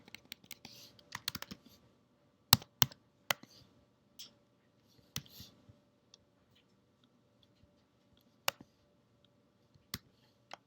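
Typing on a computer keyboard up close, with sparse, irregular key clicks and short bursts of taps separated by quiet gaps, faint and isolated against a low hum.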